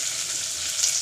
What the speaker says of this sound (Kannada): ಈಗ ಒಂದು ಸ್ವಲ್ಪ ಈರುಳ್ಳಿನ ಹಾಕ್ಕೊಂಡು ಸ್ವಲ್ಪ ಫ್ರೈ ಮಾಡೋಣ.